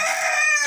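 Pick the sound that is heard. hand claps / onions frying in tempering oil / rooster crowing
rooster crowing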